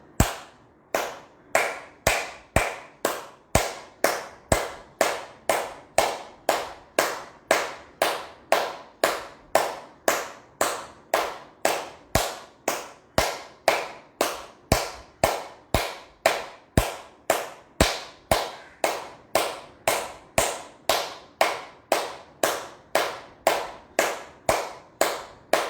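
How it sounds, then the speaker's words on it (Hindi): Steady, evenly paced hand clapping performed as a yoga exercise, full palms striking together repeatedly, crisp and close for about a minute's worth of regular beats with no talking. "ऐसा पूरा पंजा एक दूसरे को लगना चाहिए, उस तरह ताली बजानी है 1 मिनट तक"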